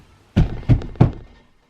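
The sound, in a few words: banging on the floor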